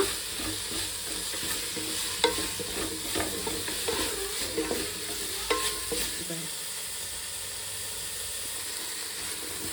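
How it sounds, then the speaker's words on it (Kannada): Coriander and mint leaves frying in ghee for ghee rice, a continuous hissing sizzle with repeated spatula scrapes and taps for the first six seconds, then settling into a steadier, quieter sizzle. "ಕೊತ್ತಂಬರಿ ಸೊಪ್ಪು ಹಾಕ್ತಾಯಿದ್ದೀನಿ, ಪುದೀನ ಸೊಪ್ಪು, ಮತ್ತು 2 ನಿಮಿಷ ಫ್ರೈ ಮಾಡೋಣ."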